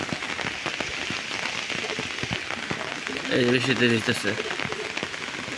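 Steady rain patters on a surface where pigeons shelter and sit out in the wet, a continuous close hiss with dense drop ticks, and a brief burst of cooing or voice in the middle.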